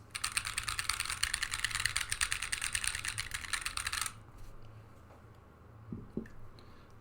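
Fast, continuous typing on an MHKB Minivan mechanical keyboard with DSA keycaps, foam-dampened case and Holy Panda-style switches. Dense clacky keystrokes run close for about four seconds, then stop, followed by quiet handling.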